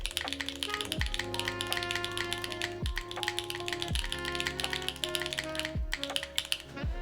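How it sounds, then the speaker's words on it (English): Keys clack on a custom Gwŷdd65 mechanical keyboard built with no foam inside, a quick, uneven run of crisp taps close to the mic over soft background music. "Someone wanted to hear this keyboard? I will show you this keyboard. There's no foam in this at all."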